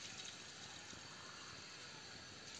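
Water pouring steadily into a container, a faint continuous hissing splash lasting the whole moment with no talking.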